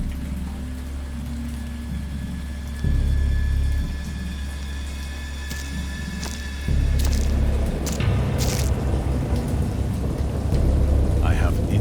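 A video game thunderstorm: steady rain falls throughout while several loud thunder rumbles swell in, one near three seconds and a heavier, crackling peal after about seven seconds.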